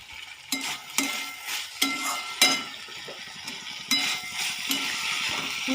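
Bitter gourd and potatoes being stirred in a pan with a little sugar, soft clinks and scrapes of the spatula recurring in bursts over a steady sizzle.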